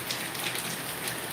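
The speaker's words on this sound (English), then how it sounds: "we got all this hard rain coming down out here. It's just raining." Hard rain pours down outdoors in the Philippines, a steady dense hiss of drops hitting surfaces with no break and no voices.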